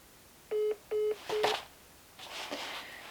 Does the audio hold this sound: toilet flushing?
no